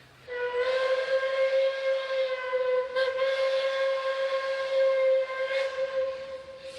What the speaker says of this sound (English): This is Puffing Billy Locomotive 6A hauling a load test train from Belgrave to Gembrook on Tuesday, October 21st.